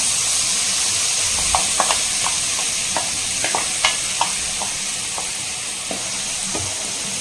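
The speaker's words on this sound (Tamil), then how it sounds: "கொஞ்சம் கொஞ்சமாக சேர்க்கலாம் ஏன்னா இது வந்து படப்படம் பொரிய ஆரம்பிக்கும்" Steady sizzling of garlic frying in hot oil, with scattered sharp pops and crackles throughout, close and continuous.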